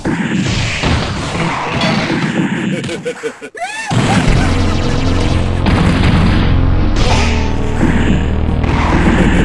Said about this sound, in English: Rocket punch!